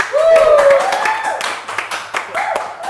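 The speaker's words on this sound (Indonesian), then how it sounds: "tepuk tangan dong sayang" A few sharp hand claps ring out in a casual Indonesian talk-show chat, spaced loosely and partly overlapping a voice.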